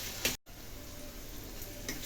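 Sliced onions with a lemon-sized lump of tamarind fry in a pan for onion chutney, giving a soft, steady sizzle with faint crackles, quiet and close, with no talking.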